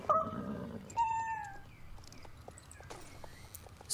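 A cat meows in the Star Stable video game, with two or three short, clear calls at the start and near one second, over soft game ambience and a faint click at the very end.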